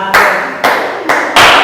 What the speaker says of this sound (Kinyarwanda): bakomera Imana amashyi